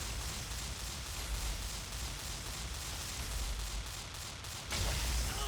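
Dense, steady gunfire and explosive bursts from the XSHOT shooting video game run continuously throughout, with a heavier blast near the end, loud and busy with no talk.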